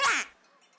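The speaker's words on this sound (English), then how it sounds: "Quack!" A single loud, close cartoon-style duck quack from a children's learning program, a short burst that trails off into near silence.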